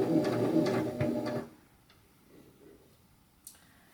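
Emerald 118 sewing machine stitching: a loud, fast mechanical whirring with rhythmic ticking runs for about a second and a half, then stops abruptly, leaving quiet room tone and a single small click.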